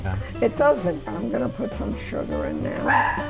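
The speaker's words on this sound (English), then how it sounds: "That's just our dog" Family dog barking and yipping in the background of a home kitchen, short bursts under continuous close talk from people cooking.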